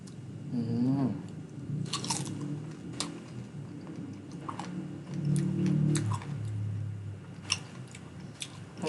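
Small sour tamarind fruit bitten and chewed alongside mango with a fermented fish dip, giving close, wet, crunchy chewing with sharp bite clicks spread unevenly over several seconds.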